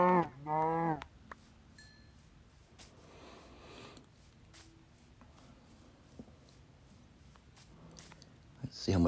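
Minecraft cows give a loud, close moo at the start, then another near the end, with quiet in-game shuffling and faint clicks between them and no speech over the calls.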